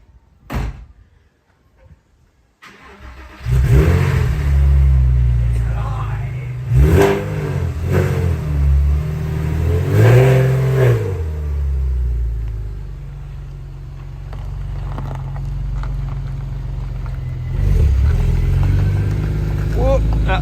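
A car engine starts after a door thud, then idles loud and close with several revs rising and falling over a steady low rumble, while someone talks.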